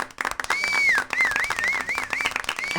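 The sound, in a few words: round of applause from an audience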